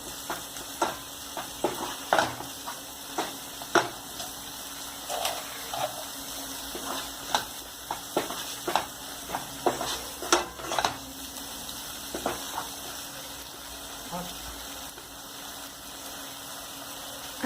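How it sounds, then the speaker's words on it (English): A spoon stirs masala for an egg gravy in a pan, scraping again and again in a steady rhythm over a soft, continuous sizzle. "Give a good stir to the masala. I am stirring it well so that the masala gets blend well."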